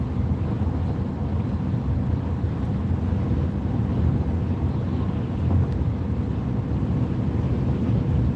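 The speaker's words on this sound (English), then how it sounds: "getting a little windy." Steady, loud wind roars and buffets the microphone throughout, a continuous low rumble with no break and no talking.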